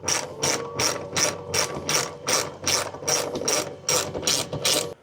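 Ratchet wrench driving stainless steel screws to bolt a power outlet onto a cargo trailer, a loud, close, steady run of about a dozen evenly spaced ratcheting clicks with no talking.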